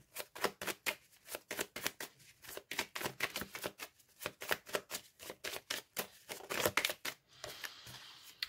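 Tarot cards shuffled and drawn for a reading: a quick, irregular run of crisp riffling slaps and flicks, close and soft, continuing with no speech.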